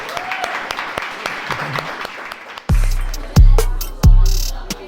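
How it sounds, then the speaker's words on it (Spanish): Studio audience of a technology show claps in a steady, moderate patter for a few seconds, then three loud, deep booming hits land in quick succession over the fading applause. "¡Aplausos, por favor!"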